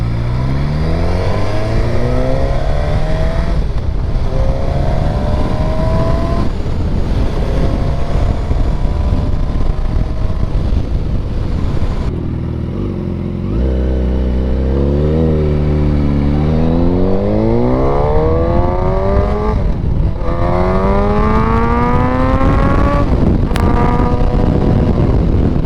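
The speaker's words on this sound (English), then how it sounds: "here's a quick clip of what my bike sounded like before and after I had the upgrades" A 2020 Suzuki Katana motorcycle engine, heard before and after tuning upgrades, revs repeatedly through climbing and falling pitches, loud and close, with wind buffeting the microphone and a short lull near the middle.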